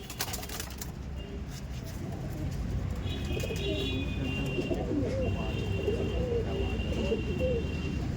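Giribaz pigeons coo steadily in a loft, a dense continuous murmur of many birds with occasional chirps and wing flutters throughout, close and fairly loud.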